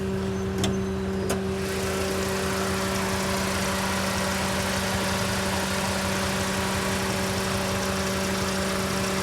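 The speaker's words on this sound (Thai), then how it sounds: "เครื่องเดินเรียบดีนะครับ" A 2011 Duo-engined pickup with manual gearbox idles smoothly under the open hood, a steady, even mid-pitched hum with a constant tonal drone and no misses, recorded close with a couple of faint clicks at the start.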